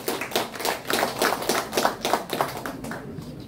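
An audience applauds at a calligraphy exhibition opening in a gallery, a dense steady burst of many hands clapping at close range, lasting several seconds without speech.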